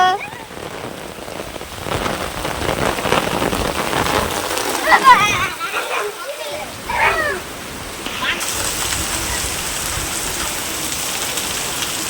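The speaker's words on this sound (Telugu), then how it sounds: "వానైతే ఫుల్ పడుతుందండి" Heavy rain pours down steadily, a dense hiss of drops hitting surfaces, with a few voices briefly heard in the middle.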